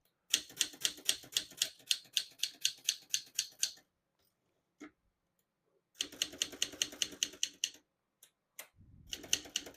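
Rapid typing on a 1966 Adler Tippa 1 vintage portable typewriter: sharp, close key strikes in even bursts, broken by pauses, a carriage-return clunk and a short ratcheting run near the end.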